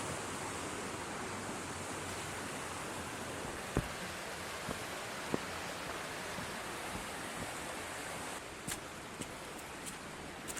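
A river flows beside a walking path on Dartmoor near Okehampton, giving a soft, steady rushing hiss of water with a few faint clicks and footfall-like taps scattered through it.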